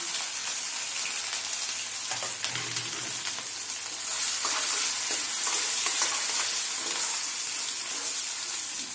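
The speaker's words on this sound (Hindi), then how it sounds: "इसके साथ ही हम इसमें कुटा हुआ जिंजर डाल देंगे।" Crushed ginger fries in hot oil in a pan, a steady close sizzle with occasional stirring scrapes and crackles, no voices.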